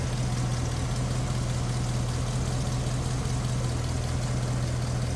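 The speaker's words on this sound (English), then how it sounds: "Can't beat the sound of a nicely tuned and smooth running flatty" The flathead V8 of a 1950 Ford Custom Convertible idles smoothly and steadily. Its low, even rumble stays constant and close throughout, with no voices.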